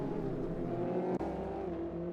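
Ginetta G40 GT5 race cars at Croft Circuit, engines droning steadily close by with a brief dip and shift in pitch midway, one car's note rising as the pack continues.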